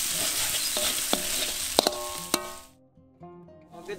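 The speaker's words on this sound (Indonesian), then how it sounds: "aduk sampai mateng ya" Tauco is stirred and fried in a pan: a dense, close sizzle with a utensil clicking and scraping against the pan, until the sizzling suddenly drops away near the end.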